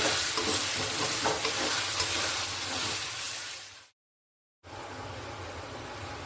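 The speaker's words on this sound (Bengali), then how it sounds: "মশলাটা একটুখানি ভালো করে একটু নাড়তে হবে যাতে লেগে না যায়" Spice masala for bhuna chicken frying and being stirred in a pan makes a dense, steady sizzle with scraping, close and fairly loud, broken by a brief total silence before the sizzling resumes; no speech.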